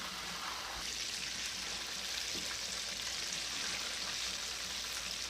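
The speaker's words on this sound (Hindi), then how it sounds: "चिकन को फ्राई होते हुए 5 टू 6 मिनट हो गए हैं।" Chicken wings fry in hot oil, a steady, dense sizzle and crackle that holds evenly throughout with no talk.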